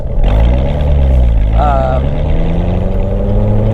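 A manual Corvette C7 Z06 revs out in first gear before the shift to second, a loud, close, continuous engine roar rising in pitch through the whole stretch, with a voice speaking over it.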